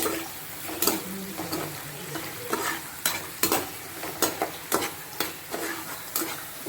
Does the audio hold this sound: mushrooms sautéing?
yes